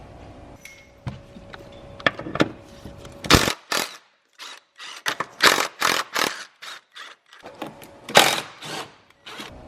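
Bolts being worked loose from the top shock mount on a BMW F30/F80/F82 with an E12 external Torx socket, giving scattered metallic clicks and ratcheting bursts that come close and fairly loud with short pauses between them.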